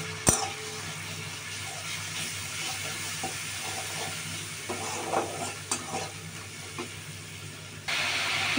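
Spice masala fries in hot oil for a chicken and pointed gourd dorma, giving a steady close sizzle with occasional stirring scrapes throughout.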